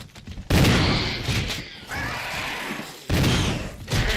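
Gunfire in the 2002 Resident Evil game, loud close bursts of rapid shots with short gaps between them, sharp onsets and noisy tails.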